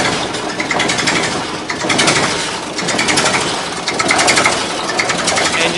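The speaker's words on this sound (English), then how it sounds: "Engine purring away." A John Fowler road roller engine idles close by, giving off a busy, clattering mechanical chatter with a rapid, steady rhythm and a loud hiss across the whole range.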